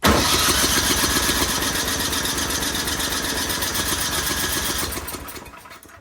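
The small engine of an Ariens 1130LET track snow blower cranks over and over in a rapid, steady rhythm for several seconds without catching, then winds down and stops.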